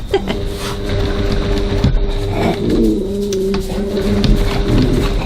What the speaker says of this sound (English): that's my dog singing in the background.